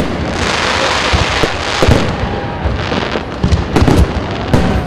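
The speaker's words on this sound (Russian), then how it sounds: "Завершился праздник красочным салютом." City Day festival fireworks crackle and pop continuously, with several sharper bangs scattered throughout, loud and dense like a display in full swing.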